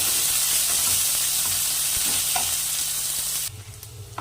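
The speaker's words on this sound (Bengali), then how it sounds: "এখন ভালো করে পেঁয়াজটাকে ভেজে একটু লাল লাল করে নেব" Chopped onions fry in a pan for a Bengali rui posto fish dish, a loud continuous sizzling hiss with light stirring that suddenly drops to a quieter bubbling near the end, with no voices.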